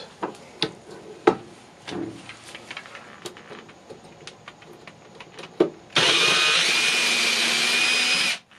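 A .308 M80 rifle cartridge case is handled with several close clicks and taps while reloading, then a loud, steady power-tool whir runs for about two and a half seconds as the case is trimmed.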